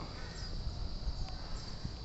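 Faint crows caw now and then under a constant hiss of background noise, distant and hard to pick out.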